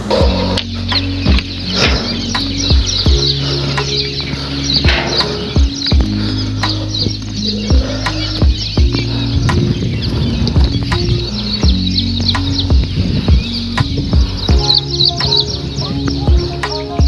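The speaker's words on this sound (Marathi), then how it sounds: "पाखरांचा तर एवढा छान आवाज येत होता ना चला तुम्हाला ऐकवतो मी" Birds chirp and call repeatedly over a loud, droning hum, with short sharp tweets scattered throughout.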